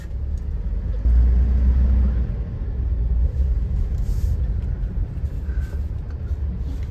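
A Tata Punch 3-cylinder engine runs in bumper-to-bumper heavy traffic, a steady low rumble that swells briefly early on, then settles into a constant drone.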